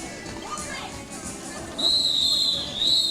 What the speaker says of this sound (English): That's a rolling whistle, means that unofficial score is official.